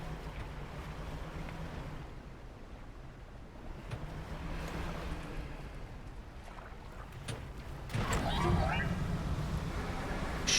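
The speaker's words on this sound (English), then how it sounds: "A current moving through the waves." Ocean waves wash steadily beneath a small boat at sea in the fishing game Dredge, a constant rushing swell with faint creaks that rises in a louder surge near the end.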